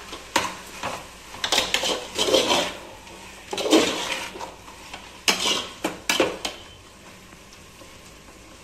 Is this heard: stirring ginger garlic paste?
yes